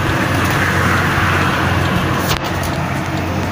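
A truck hoisted and suspended on a tow truck while being hauled, a loud continuous engine and road rumble close by, with a brief dip near the end and no talk.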